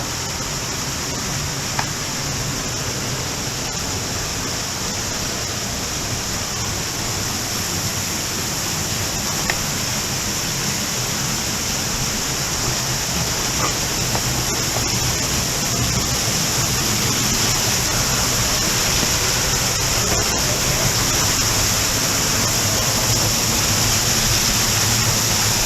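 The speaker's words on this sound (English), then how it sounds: "A beautiful waterfall." Constant broadband rush of Adkins Canyon Falls in the Ozark National Forest, Arkansas, loud and steady, with faint wind over it and no voices.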